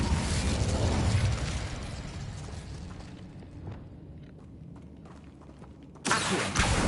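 An Incendio fire spell in Hogwarts Legacy bursts out with a loud roaring whoosh that fades over a few seconds, followed by a second sudden blast at the end.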